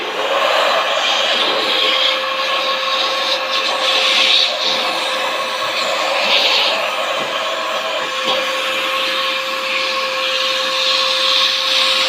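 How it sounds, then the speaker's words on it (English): Vacuum cleaner sucking debris out of an aluminum aircraft fuel tank for a CH 750 STOL, a loud steady whine with scraping and rubbing as the nozzle moves about. "Now, let's do another vacuum job."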